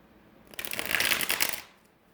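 Tarot cards being shuffled in one quick, close riffle that rises from quiet, holds for about a second and fades, with no talk over it.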